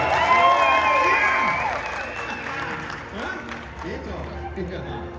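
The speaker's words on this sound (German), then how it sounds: "So, jetzt auch mal gerne so einen Applaus, ja?" Crowd at a Movie Park Germany theme park show claps and cheers loudly, with children shouting over sustained applause that fades slightly after the first two seconds; voices call out throughout.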